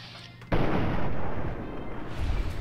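A .32 caliber gun fires in Fallout 3, one sudden loud, close blast followed by a long rumbling, noisy decay with no voices over it.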